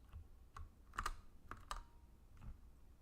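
Scattered keystrokes on a computer keyboard during front-end coding work, a few quiet, irregular clicks and taps spaced over a few seconds, close and alone.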